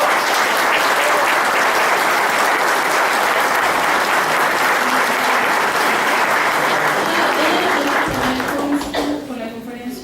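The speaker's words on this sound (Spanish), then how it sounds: "le damos un fuerte aplauso" Lecture audience at a human rights conference breaking into strong applause, a loud sustained clatter of many hands that thins out near the end as a voice begins speaking.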